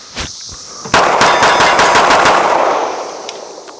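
A Smith & Wesson M&P Carry Comp pistol fires a rapid string of loud, close shots, each sharp crack following quickly on the last and ringing off into a fading tail.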